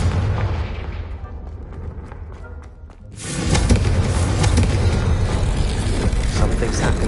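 A Confringo spell explosion in the Hogwarts Legacy video game hits as a sudden heavy boom and then a dense roaring rumble that stays loud to the end, following a quieter stretch of sustained game noise.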